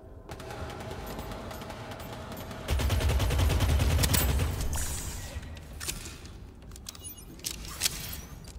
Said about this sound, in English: Still hear my turret.